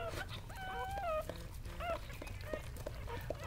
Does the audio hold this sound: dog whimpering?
yes